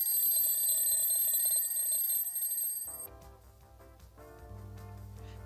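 An alarm clock rings with a loud, bright continuous electronic tone for about three seconds, then cuts off and gives way to quieter background music.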